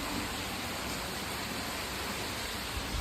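Steady, even hiss of rain falling, continuous and moderately loud throughout with no voices.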